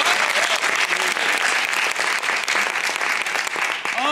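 Sustained applause from an improv show audience, dense and steady throughout, with a few faint vocal cries mixed into the crowd.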